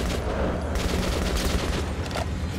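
Rapid gunfire bursts and heavy booms rattle continuously in Metro: Last Light Redux played on Xbox One X, a dense, loud fusillade of in-game shots with no voices.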